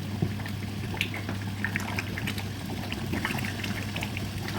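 Black soup with banga cooking in a pot on a gas stove, a continuous low bubbling and simmer with small popping blips throughout, close and steady with no talk.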